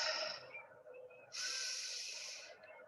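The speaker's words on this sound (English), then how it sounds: "Deep breaths." A person breathes deeply and slowly in a calm setting, with a long soft exhale followed by a louder, broad airy inhale lasting about a second, close and alone without speech.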